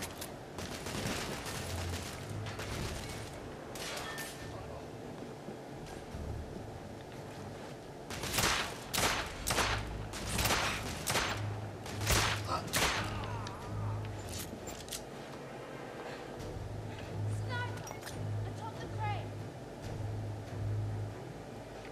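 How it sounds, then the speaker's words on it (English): In the video game The Order 1886, pistol gunfire crackles in sharp bursts, with scattered single shots early, a dense cluster of rapid reports in the middle, and a few later ones over a low rumbling background. "I need a different pistol."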